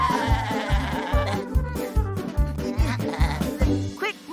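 Wavering cartoon sheep bleats rise over a steady, bouncy musical beat, repeating several times through the clip.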